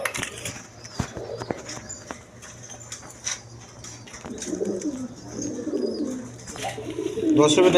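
Racer pigeons coo in low, rolling calls close by, repeating several times, while a voice talks faintly in the background and occasional knocks and shuffles sound.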